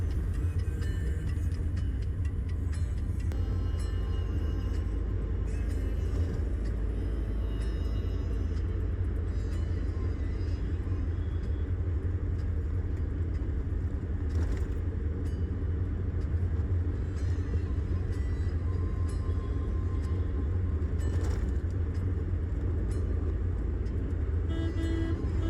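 Steady road traffic on the approach to Anand Vihar in Delhi, a continuous low rumble of cars and buses with scattered faint clicks and horn-like tones, close and unbroken throughout, no talking.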